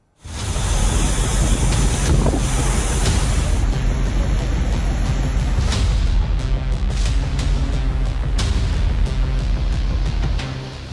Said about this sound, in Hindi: पानी की लहरें शोर कर रही हैं।